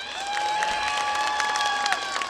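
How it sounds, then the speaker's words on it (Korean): Crowd applause at a cherry blossom festival opening ceremony, steady clapping with a sustained musical tone or feedback line running underneath, moderately loud throughout. "앵콜 무대 기대했던 만큼 큰 박수 부탁드리겠습니다."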